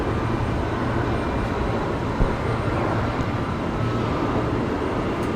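An airliner departing Brisbane Airport on runway 01 left makes a steady, loud broadband jet roar that holds evenly throughout, distant but filling the scene.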